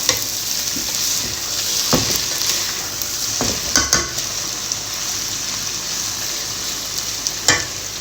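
Onions, green chillies and ginger-garlic paste fry in a pan while being stirred, a steady close sizzle with a few louder scraping stirs and clatters scattered through, no talking.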